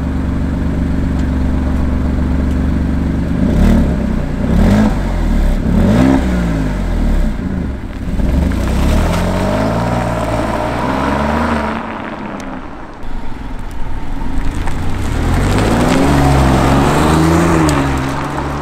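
Alfa Romeo Giulia Quadrifoglio with flap-controlled exhaust, heard from inside the car: a loud engine idling, then repeated throttle blips rising and falling in pitch, a brief lull, and further revving.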